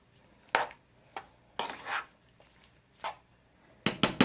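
Shrimp rice creole being stirred in a pot, with a utensil scraping and knocking against the pot in irregular bursts, close and fairly loud, ending in a flurry of clatter.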